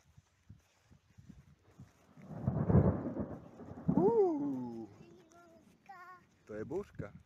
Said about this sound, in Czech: To je bouřka.